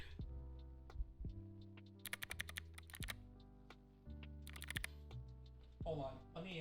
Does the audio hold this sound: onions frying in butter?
no